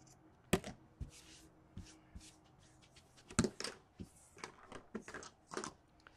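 Scissors snip the corners of sewn cork fabric, a few sharp, quiet cuts spaced irregularly with soft handling rustle in between.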